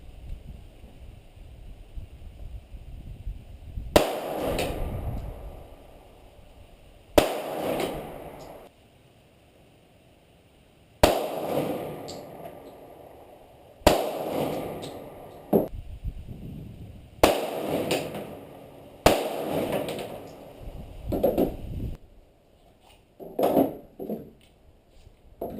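Glock 42 .380 pistol shots at an outdoor range come as separate loud cracks spaced several seconds apart. Each is followed by a short echoing tail, with quiet gaps between shots.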